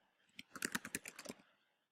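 Quick, soft clicks of a computer keyboard being typed on, a brief burst of a dozen or so keystrokes, faint and close, with no talking.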